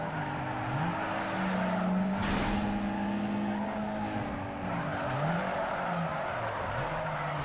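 A car drifts in the Need for Speed Underground 2 video game, its engine droning steadily while long tire squeals and skids rise and fall through the whole stretch, with a loud scrape midway.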